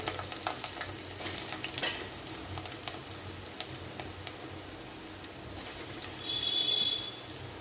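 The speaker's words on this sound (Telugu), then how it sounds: "ఇందులో కట్ చేసి పెట్టుకున్న పచ్చిమిరపకాయలు చిల్లిపాయలు వేసుకోవాలి" Green chillies and chopped onions fry in about two tablespoons of hot oil, giving a steady, soft sizzle with light stirring scrapes in the pan, with a faint electronic beep near the end.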